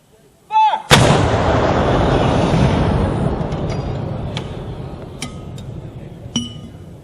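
A single loud artillery gun blast during army annual training, booming and then rolling away over several seconds, with faint metallic clinks and a shouted command just before.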